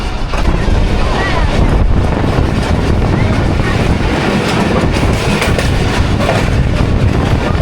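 Shah Hussain Express running at speed behind locomotive ZCU 26415 on the Karachi to Lahore line, a loud, steady roar of wheels and rushing wind with faint rhythmic clatter throughout, heard from inside the carriage.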